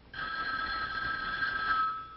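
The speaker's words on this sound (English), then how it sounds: "But I believe this is the telephone." A vintage 1950s telephone bell rings indoors in one continuous, steady, fairly loud trill that stops abruptly, with no talking over it.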